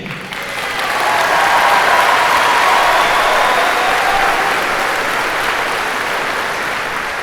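Graduates and audience at a school graduation ceremony break into loud, sustained applause, a dense wash of many hands clapping that swells in the first second and holds steady for several seconds without speech.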